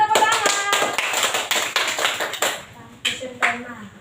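Clapping in a sixth-grade elementary classroom: a burst of children's hands clapping, dense and uneven at first, then thinning to a few scattered claps, with voices talking underneath.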